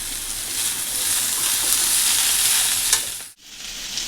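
Beans, potato, carrot and squash frying together in a pan, giving a loud, steady close sizzle that briefly drops out near the end before resuming.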